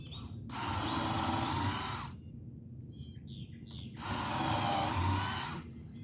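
A battery-powered drill bores pilot holes for a mailbox installation in two loud, steady whirring bursts of about one and a half seconds each, close up, with birds chirping outdoors in the quiet gap between them.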